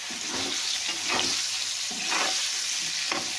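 Previously fried vegetables tumble into a pan of sizzling oil and turmeric powder, with a loud, continuous hiss and about four rhythmic stirring swells up close.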